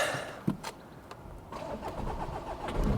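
An abandoned VW Golf's engine cranks with a sharp click, then catches and settles into a rough, steady run that grows louder toward the end, close by.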